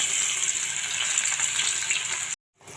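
Potatoes tipped into hot oil tempered with asafoetida and a dried red chilli sizzle loudly and steadily for over two seconds, then the sound cuts out abruptly before a quieter sizzle resumes.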